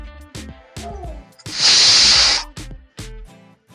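A pressure cooker of tomato bath lets out a loud burst of hissing steam lasting about a second, just after its cap is closed, with someone talking before and after it.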